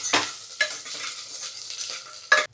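Garlic fries in oil in a pan, a steady close sizzle broken by a few sharp scraping stirs of a spoon against the pan, with no talk.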